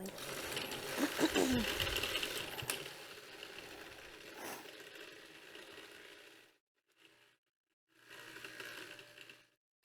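A blender whirs loudly while pureeing a salad dressing during a summer-harvest cooking demonstration, a steady mechanical drone that cuts out, pauses briefly, then runs again for a short final burst.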